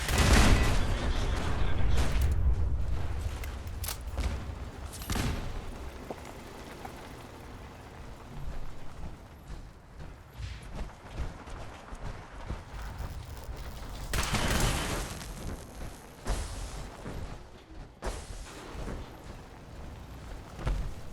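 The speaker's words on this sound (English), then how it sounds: "Who's firing missiles now?" Missile launchers in a survival video game fire off a loud burst of booming blasts up front, followed by scattered explosions and rumbling impacts that rise again in a second strong volley midway through.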